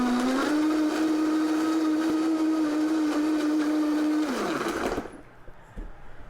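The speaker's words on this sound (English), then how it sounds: "We're going to get ready to blend this." A blender blending a colada drink whirs at a steady high pitch, loud and close, then winds down and stops, followed by a few faint clinks.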